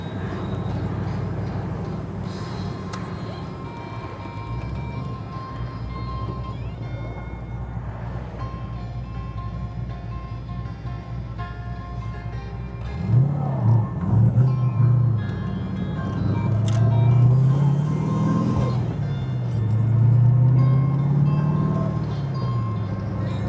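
A 480 hp V8 swapped into an NB Mazda Miata cruises in fourth gear at about 1400 rpm, giving a low, steady drone that swells louder partway through.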